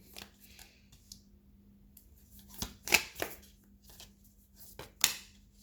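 Tarot cards shuffle in short, soft riffling bursts, several quick flicks and slaps close by with quiet pauses between them.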